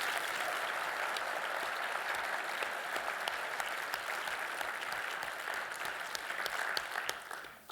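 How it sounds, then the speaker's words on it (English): An audience at a film symposium bursts into broad, sustained applause, a thick steady roar of many hands clapping that holds evenly for several seconds before starting to taper off at the end. "So if we could have a round of applause."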